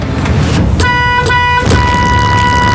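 A loud school bus horn honks close by, two short toots and then a longer sustained blast, over a background rumble of the road.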